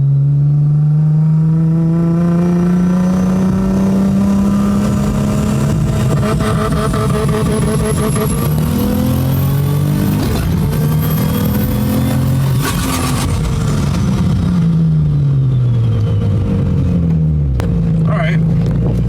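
Turbocharged rear-mount turbo Nissan G35 accelerating hard under boost, engine note climbing steadily through the gears with rising whine, loud and close from inside the car, with people talking over it.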